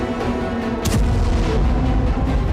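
A deep boom from a drone strike on an oil refinery in Russia rolls out heavily, then gives way to a sustained low rumble that stays loud until the end.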